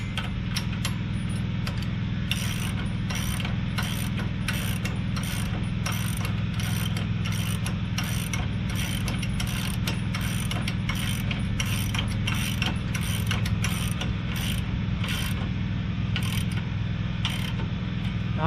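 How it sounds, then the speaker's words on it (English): Steady ratcheting clicks from a 3/4 inch wrench snugging a nylon nut onto a receiver bolt of a custom hitch, a fast regular ticking held close and continuous over a low mechanical hum, with no talking. "because it's a nylon nut, you absolutely need a wrench on the back side"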